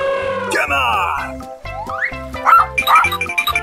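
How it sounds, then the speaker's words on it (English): A cartoon-style dog barks in a few short yips over a bouncy children's animation soundtrack with bright musical tones and sound effects, loud and close. "Dog."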